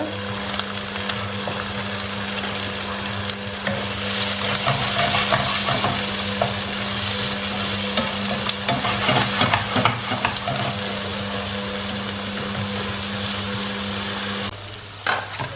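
Onions, capsicum and green chillies sizzle loudly in hot tempering oil for besan chutney, a steady crackling fry with stirring scrapes and clinks of a spoon, continuous until the sizzle drops off near the end.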